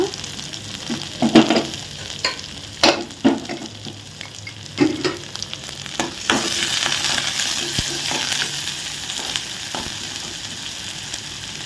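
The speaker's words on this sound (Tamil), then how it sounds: "நல்லா வதக்குங்க" Onions sauté in a pan for a healthy school lunch dish, a soft continuous sizzle with sharp stirring clatters early on, then a louder steady frying hiss.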